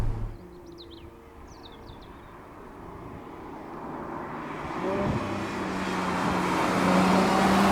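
A 740 bhp Ferrari F12 accelerating, the engine rising from a low rumble into a steadily swelling roar as speed builds, heard from inside the car with road noise underneath.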